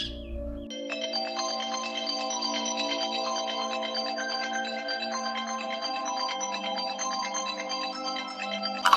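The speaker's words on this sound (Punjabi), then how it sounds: "ਇਹ ਕਿਹਦਾ ਫੋਨ ਆ ਰਿਹਾ ਹੈ" A mobile phone ringtone plays a bright, repeating electronic melody, steady and moderately loud for most of the stretch after a short quiet start, with no voices over it.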